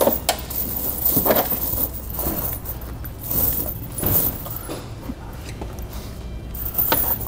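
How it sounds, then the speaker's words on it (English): Cable tire chains for a 2016 Nissan Quest are set onto a tire, giving repeated metallic jangling and scraping clinks in irregular bursts against a steady low background. "Now we'll go ahead and take our chains"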